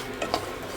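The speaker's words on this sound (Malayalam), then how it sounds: "നമ്മളുടെ അണ്ടിപ്പരിപ്പ് വറക്കുന്നു." Cashew nuts fry in hot oil for biryani, giving a steady close sizzling hiss with a couple of brief stirring clicks and no talking.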